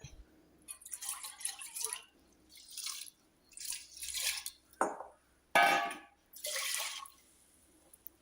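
Water splashes and swishes in several separate bursts as rice and lentils are rinsed by hand in water, with quiet pauses between each wash.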